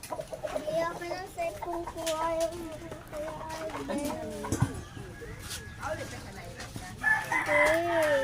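Chickens cluck and call close by, with a rooster crow rising near the end, while people, including a child, talk over the birds.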